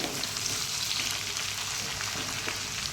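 Chopped onions for homemade chili chicken fry in a pan, a close, dense, even sizzle with fine crackling that keeps going without a break.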